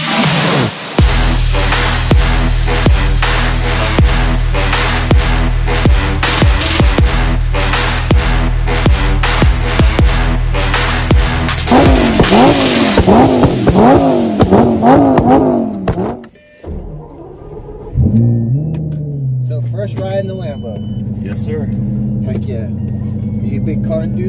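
A Lamborghini Countach, an early model, driving down a street and accelerating, its engine loud and close with rising revs and gear changes before it drops to a lower idle-like rumble, while voices talk over it.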